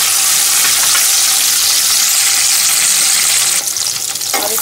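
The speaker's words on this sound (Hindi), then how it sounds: "तेल गरम हो जाएगा तो ये सब ऐड कर दूंगी इसमें, मिर्ची, अदरक और लहसुन, ये तीनों इसमें डाल देंगे।" Green chilli, ginger and garlic sizzle and fry in hot oil in a pan for a tomato chutney, a loud continuous crackle close by with a brief stirring clatter near the end.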